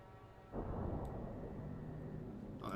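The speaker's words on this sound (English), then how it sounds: "Thunderclap." A thunderclap sounds in the video game Dragon Age II, a sudden low boom that breaks in and then rumbles on, loud and sustained, fading slightly to the end.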